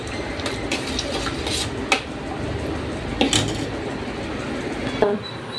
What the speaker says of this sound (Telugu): దీన్ని బాగా మిక్స్ చేసుకొని పక్కన పెట్టుకోవాలండి